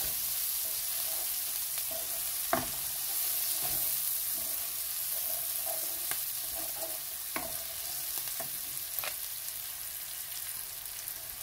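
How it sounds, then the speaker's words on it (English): Spatula stirring coriander through an omelette frittata in a frying pan, a steady low sizzle throughout with a few sharp scraping knocks against the pan. "I'm going to put in some coriander and stir it through."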